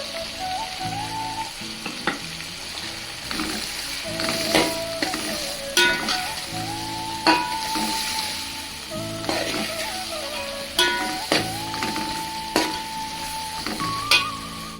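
Ginger garlic paste with spice powders, chili powder and salt frying in a pan for tomato mint rice, a loud continuous sizzle broken by frequent scraping stirs and metallic knocks of a spoon, close up.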